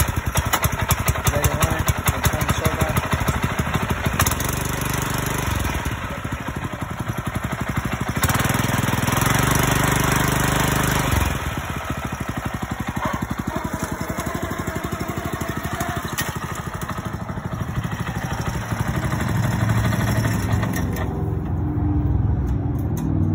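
A lawn aerator's small engine runs loud and steady right after starting, a continuous close rumbling drone with slight shifts in pitch and no talking.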